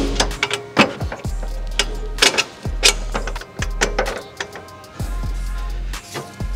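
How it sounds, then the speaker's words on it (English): Jacking up the suspension arm during a coilover install on a 2022 Subaru WRX: a run of sharp, close clicks and ratcheting taps in an uneven rhythm, with short pauses between strokes. "then I'll start jacking up the arm"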